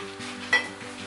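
Goan-style sausage meat chilli fry sizzles steadily in a pan as it is stirred, with a faint scrape of a utensil and a brief louder clink partway through, close up and with no talk.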